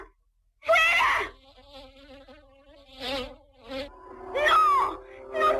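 Close, loud buzzing of a fly in rising and falling bursts with short gaps, whining and droning in uneven swells.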